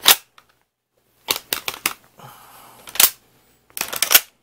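A magazine is loaded into a Mosin Nagant Type 53 rifle with the bolt closed: crisp metallic clicks and clacks in quick clusters, with a brief scraping slide between them, close and loud in a quiet room.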